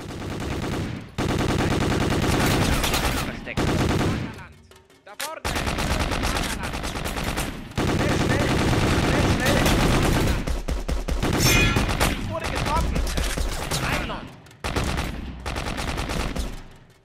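Rapid gunfire in the VR shooter Honor & Duty rattles in long, loud bursts close up, broken by short pauses, with no talking over it.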